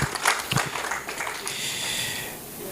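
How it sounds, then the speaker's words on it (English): An audience at a law society conference forum applauds, a brief burst of clapping and scattered claps that fades into a softer, diffuse crowd murmur. "Let's give them a round of applause"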